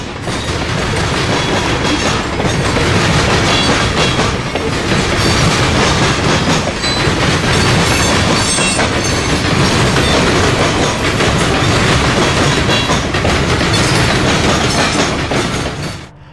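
A long Norfolk Southern freight train of grain loads, 670 axles and 9,800 feet long, rolling through Cordele, Georgia: loud, close, continuous rumble with steady clickety-clack of wheels over rail joints, easing off only at the very end.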